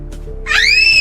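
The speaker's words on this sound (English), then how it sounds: "the girl suddenly screams." A frightened girl in a post-apocalyptic film screams suddenly, a loud, shrill cry that bursts in after a brief quiet moment and holds steady to the end.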